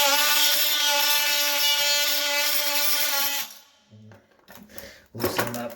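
An oscillating tool cutting out shower floor tile shims, a loud, steady high buzzing that runs for about three seconds, then cuts off, leaving brief scraping and handling noises.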